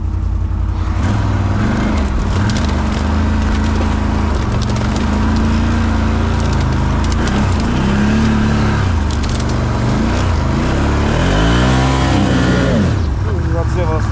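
An ATV engine revs loud and close while the quad churns through mud and up steep hills, the pitch climbing and dropping repeatedly, with voices shouting over it.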